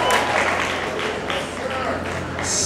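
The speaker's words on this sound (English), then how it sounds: "clap your hands, everybody" A concert audience applauds in a steady, dense wash of clapping that swells slightly at the end, filling the whole moment without any spoken voice.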